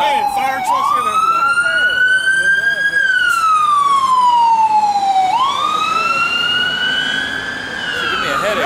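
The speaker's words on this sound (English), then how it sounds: "How many damn ambulances done came by? Hey, fire trucks in there." Ambulance and fire truck sirens pass on a street, a loud wailing tone sweeping up and down over several seconds with a lower-pitched undertone from the vehicles.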